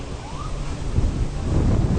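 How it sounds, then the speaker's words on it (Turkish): Strong wind roars and buffets steadily during a fire in Çanakkale, with low rumbling gusts growing louder toward the end; no voices. "Çok fena rüzgar var."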